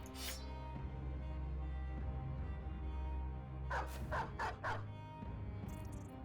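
Several quick war-dog barks in the Battle Brothers game arrive in a short burst near the end, fairly close and clear above a steady low game soundtrack.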